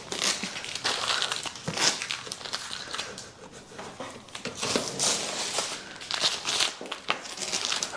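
Masking paper being peeled and crumpled off freshly painted wheels, a close, continuous crinkling and tearing with irregular bursts of rustle and crunch.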